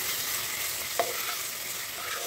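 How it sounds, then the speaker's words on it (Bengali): Ground spices and turmeric sauté in a pan for katla fish curry, giving a continuous close, bright hiss of frying with a single utensil tap partway through. "গুঁড়ো মশলা দিয়ে খুব ভালো করে একটু কষিয়ে নেব।"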